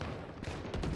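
Bursts of gunfire in the shooter game Valorant, a quick rattling volley that fires again a moment later, close and loud, with no talking.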